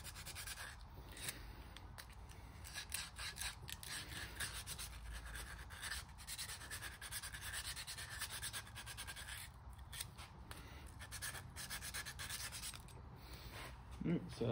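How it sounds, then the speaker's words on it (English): A wooden seam ripper blank is hand sanded with 120 grit sandpaper, giving a steady, continuous rubbing scratch that runs the whole time at close range with slight rhythmic strokes. "Just going to sand this down with a little 120 real quick to give this a little tooth"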